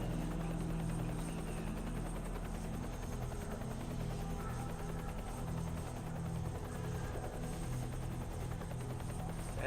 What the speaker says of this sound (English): Gotta be careful because of the helicopter.